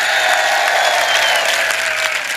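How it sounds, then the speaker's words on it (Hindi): A crowd claps loudly and continuously at an outdoor poetry gathering in Karauli, a dense, even burst of applause with no voices over it. "एक बार जोरदार ताली करौली प्रशासन के लिए"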